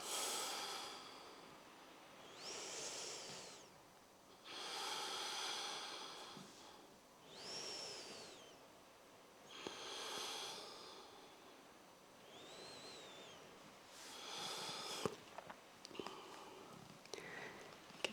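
Slow, deep breaths during a yoga low lunge with the left foot forward, about eight long inhale-exhale cycles in an even, unhurried rhythm, close and clearly audible with no talking.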